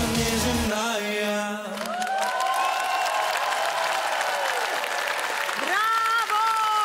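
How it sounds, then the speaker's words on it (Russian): A comedy-show studio audience claps in sustained applause, while a voice speaks loudly over it throughout. "Дорогие друзья, ваши аплодисменты!"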